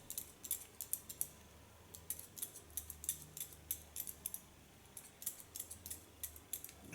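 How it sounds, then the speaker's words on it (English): Steel scissors snip short hair in scissor-over-comb style, close up and quiet. Crisp metallic cuts come in quick rhythmic bursts with brief pauses between runs. "And I really love the sound of the scissors."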